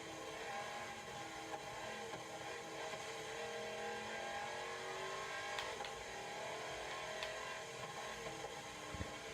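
A supercharged car's engine in Forza Motorsport 7 revs hard and steadily, its loud, tonal whine holding high throughout, with a couple of brief clicks and knocks cutting through.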